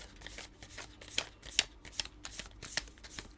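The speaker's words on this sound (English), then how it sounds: "I'm going to do 3 shuffles and then I will pick the top card." A tarot card deck being shuffled by hand, with rapid papery riffles and soft slaps in quick bursts, close and fairly quiet, no talking.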